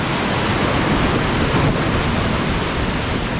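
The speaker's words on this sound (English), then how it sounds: "I'm just gonna blast through the holes and waves the best I can." A whitewater kayak, a Dragorossi DRX, punching through river waves and holes, heard as a loud, steady roar of rushing water and wind that fills the whole moment without pause.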